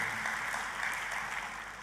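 A church congregation applauds together in a steady, dense wash of clapping that holds at an even level throughout, with no single clap standing out.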